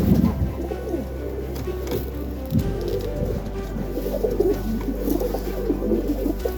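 Young Serbian Highflyer pigeons coo repeatedly in a loft on a cold winter morning, several birds' soft, throaty calls overlapping nearby with occasional wing shuffles and rustling.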